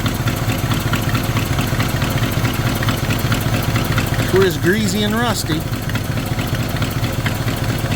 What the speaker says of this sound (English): You can fucking hear it everywhere now leaking.